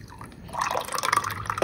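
Milk is poured into a bowl for cake batter, a brief close splash and gurgling trickle that swells and fades, with no speech.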